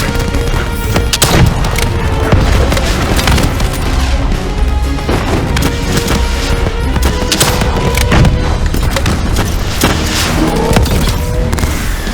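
Gunfire in Call of Duty Black Ops 3 during a boss fight against the Manticore: a loud, continuous barrage of shots and booms with sharp cracks, dense and unbroken throughout, with no talk.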